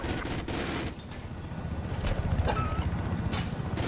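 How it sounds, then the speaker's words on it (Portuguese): Gunfire in the Battlefield 4 video game, bursts of rapid shots cracking under a dense, noisy battlefield mix, fairly loud and continuous. "alguém atirando ali"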